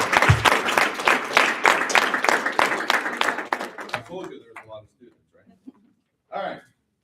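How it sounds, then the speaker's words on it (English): Applause for student award winners at a school awards ceremony, dense clapping from a crowd lasting about four seconds, then tapering into scattered claps and brief murmurs before a short final burst. "Let's give a round of applause to all the winners."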